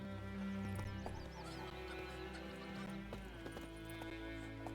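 Roach the horse from The Witcher 3 clops along in hoofbeats and snorts over a steady bed of game music and ambience, moderately loud and continuous.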